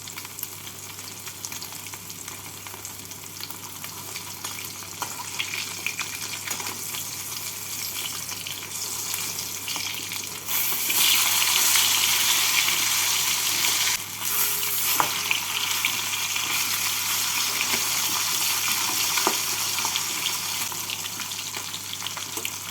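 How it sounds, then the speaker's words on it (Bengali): Pieces of katla fish fry in hot oil in a pan, a loud continuous sizzle that swells to a stronger crackling hiss partway through, with faint stirring and scraping and no one talking. "মাছের একদিকটা লাল হয়ে ভাজা হয়ে গেলে উল্টে একদিকটাকেও লাল করে ভেজে নেবো"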